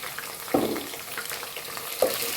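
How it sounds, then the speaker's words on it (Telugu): Green chillies drop into browned onions frying in a pan for a Bengali-style tehri, two quiet splashes of sizzle over a low, steady background frying hiss. "పచ్చిమిరపకాయలు వేస్తున్నాను"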